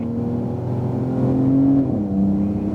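A 2018 Porsche 911 Turbo S accelerating out of a corner on a race track, a loud close engine drone climbing in pitch, then dropping briefly at a gear change before pulling again.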